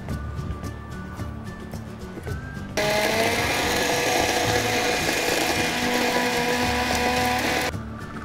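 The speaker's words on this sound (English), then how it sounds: "we're going to blend this to a fine paste" A kitchen blender purees mint, coriander, green chilies, ginger, cumin, lemon juice and a little water into a fine paste for lassi. After a quiet start it roars loudly and steadily for about five seconds, then cuts off abruptly, with no talk.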